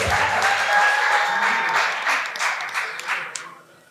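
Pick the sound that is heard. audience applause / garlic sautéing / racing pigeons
audience applause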